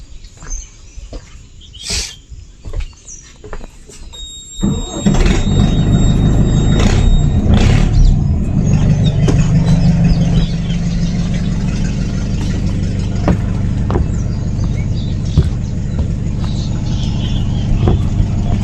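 An engine starts up after a few seconds of quieter sounds, then settles into a loud, steady, low chugging idle like a tractor that runs to the end.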